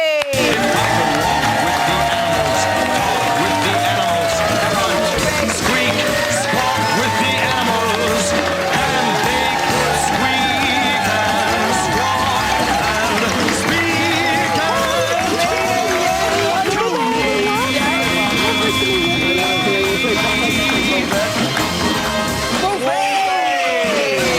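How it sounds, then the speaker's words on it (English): A television studio audience at Big Brother UK claps and cheers in a loud, continuous roar, with a presenter talking over the noise. "Give her another round of applause."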